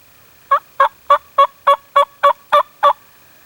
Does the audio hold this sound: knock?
no